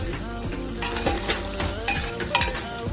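Rice stirred in a hot frying pan at home, sizzling steadily with scraping spoon strokes against the pan, close and continuous with no talking.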